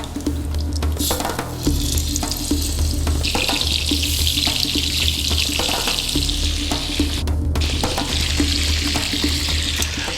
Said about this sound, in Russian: Все куриные запчасти жарим поэтапно.